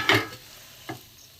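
Egg frying in a wok, fried on both sides until puffed. A bright burst of sizzle and stirring at the start is followed by a quieter hiss and a second short scrape.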